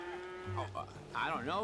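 Cattle mooing in the video game Red Dead Redemption 2 on a ranch, a couple of low, drawn-out moos close by, with a man's brief spoken line mixed in.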